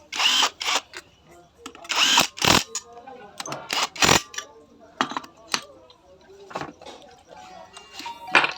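Work on a Splendor Pro motorcycle engine: irregular bursts of a power tool driving bolts, with metallic clinks and ticks between them, close and loud, while someone speaks throughout.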